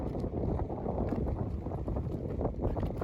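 Wind blows hard across a microphone outdoors, a continuous close rumbling roar with small gusting pulses and no talking.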